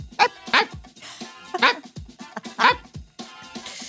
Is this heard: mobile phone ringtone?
no